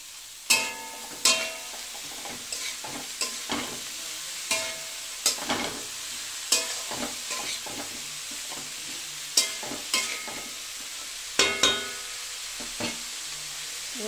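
Sliced snake gourd fries in a pan with salt and turmeric under a soft continuous sizzle, interrupted every second or so by sharp spatula scrapes and taps against the pan.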